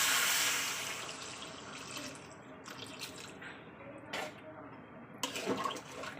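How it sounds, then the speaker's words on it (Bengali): Water pours into a cooking pot of fish curry with potato and pointed gourd, a loud rushing splash at first that settles into softer trickling and a few drips, close by. "চলুন এবার একটু জল দিয়ে দেবো দিয়ে দিচ্ছি জল"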